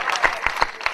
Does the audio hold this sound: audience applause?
yes